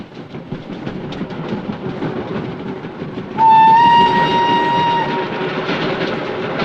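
A train running on its rails, with a steady rumbling roll throughout and a loud sustained whistle or horn tone that enters partway through and holds for a couple of seconds before the roll carries on.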